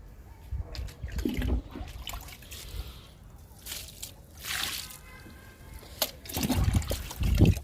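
Liquid poured onto a row of okra plants, with irregular splashes, trickles and drips coming in short bursts, fairly close and moderately quiet.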